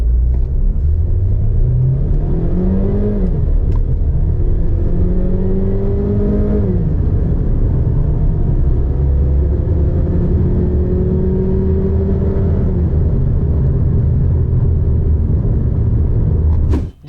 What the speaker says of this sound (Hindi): तो 0 to 100 देखते हैं गाड़ी कितनी देर में करती है।